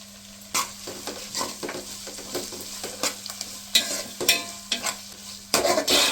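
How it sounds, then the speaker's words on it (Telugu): Ginger garlic paste frying in a pan while being stirred, soft sizzling under repeated scraping and clinking stir strokes, close and fairly quiet, with a steady low hum behind. "ఇందులోనే అల్లం వెల్లిపాయ పేస్ట్ ఒకటిన్నర స్పూన్ వేస్తున్నాము"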